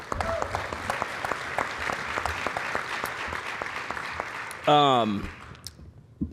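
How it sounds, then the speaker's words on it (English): A summit audience claps steadily for several seconds, dense and moderately loud, before a voice breaks in over the tail of the applause. "So we can give them a round of applause, please."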